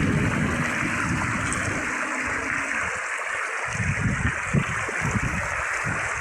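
A stream of water flows steadily through a rural channel, a constant broad rushing wash close by with slight splashing variations and no talking.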